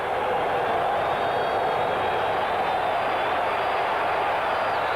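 A steady, dense crowd roar fills a football stadium during a 1982 NFL game between the Los Angeles Raiders and Atlanta Falcons on a third down. The noise stays continuous and even throughout, with no clear speech standing out.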